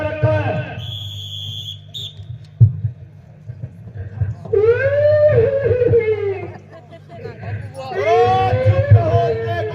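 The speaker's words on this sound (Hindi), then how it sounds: "देखो सामने से रोने की आवाज आ रही है।" A woman crying and wailing in a devotional Ramayana story performance, with long, rising and falling drawn-out sobbing cries that come in two loud bursts over a low background drone.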